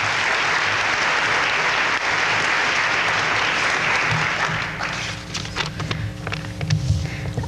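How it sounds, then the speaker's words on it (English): Audience applause for a student council president walking up to speak at a high school fine arts center dedication, loud and sustained, thinning into scattered claps and a few knocks and footsteps toward the end. "Let's give her a nice round of applause as she comes up"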